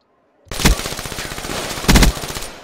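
Loud bursts of rapid automatic gunfire from a competitive online shooter match, two heavy volleys about a second apart with sustained shooting between them, close and dominant with no talk over it.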